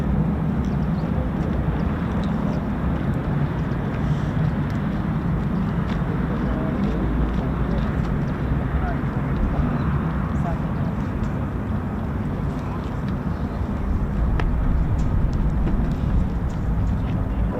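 F-15 and F-35 fighter jets taxi at RAF Lakenheath, home of the US Air Force 48th Fighter Wing, producing a steady, distant turbine roar and rumble that holds evenly throughout.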